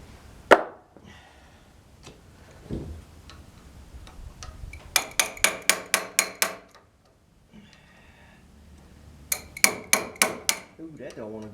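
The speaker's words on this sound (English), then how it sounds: "See if I can't tap it in a little bit." A heavier hammer taps a part into a Frick top saw with sharp metallic blows, first a few scattered strikes, then two quick bursts of rapid repeated taps, loud and close.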